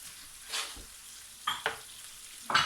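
Minced meat for Syrian kibbeh frying in a pan, a quiet sizzle broken by several sharp scraping stirs of a utensil against the pan, close and alone.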